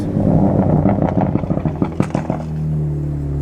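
A 2018 Ford Focus ST engine revs in first gear up to 3,000 rpm close by, then eases off with crackling pops as the throttle drops, settling into a low steady idle.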